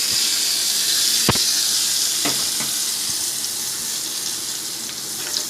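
Hot tempering with asafoetida and curry leaves poured over garlic chutney, giving a loud, close, continuous sizzle with a few sharp crackles, no speech.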